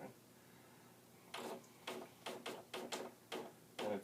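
An NX-1000C dot matrix printer advancing tractor feed paper in a series of short mechanical clunks and ratchets, about eight spaced bursts after a quiet start, close and fairly faint.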